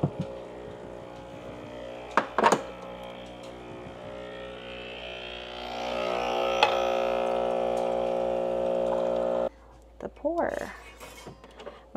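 Espresso machine brewing a double shot into a cup holding syrup: a steady mechanical pumping hum and hiss that builds and runs for several seconds, with clinks of dishes before it and a brief voice near the end.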